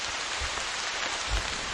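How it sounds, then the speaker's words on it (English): Soft, steady rain hisses continuously in a 1995 Discovery Channel PC game, a brief even patter with faint low thumps underneath. "Oh shit, more rain."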